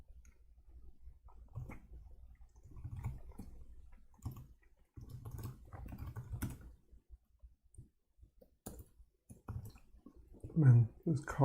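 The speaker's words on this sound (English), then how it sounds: "this cardboard keyboard not amazing" Quick, uneven clicks of typing on a cardboard travel keyboard come in short bursts and pauses, close and fairly soft, with some talk mixed in.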